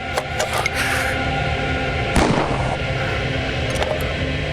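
Loud bursts of gunfire in a Crime Patrol TV episode crack out, with several sharp shots and a heavier blast midway over a dense, noisy background.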